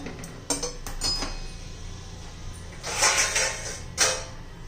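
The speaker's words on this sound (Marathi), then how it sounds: "आता याच्यावर आपण झाकण ठेवूया" A lid clinking onto a pan of capsicum cooking in village-style gravy: several short metallic clatters, the loudest two coming near the end over a quiet kitchen background.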